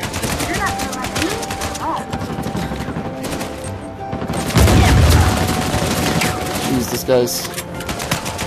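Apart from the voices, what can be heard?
gunfire in the video game Uncharted 4 multiplayer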